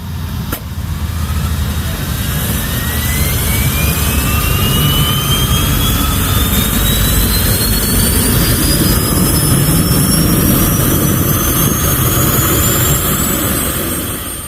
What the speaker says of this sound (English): I need my startup air to really go in there and spin my turbine.